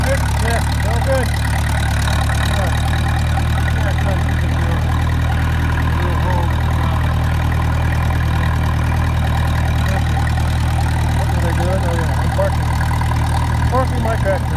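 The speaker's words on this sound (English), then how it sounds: "Parking my tractor." A tractor engine idles steadily close by for the whole stretch as it is parked on a cattle farm, a constant low rumble with faint rattles on top.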